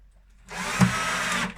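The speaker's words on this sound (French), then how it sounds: "Il n'y a plus qu'à visser, verseuse dévisseuse." A cordless screwdriver drives a screw into a panel, a steady close motor whir lasting about a second with a brief louder peak midway, no talk over it.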